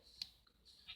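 A goat in Minecraft lets out a short, thin bleat, faint and brief, alongside quiet game sounds.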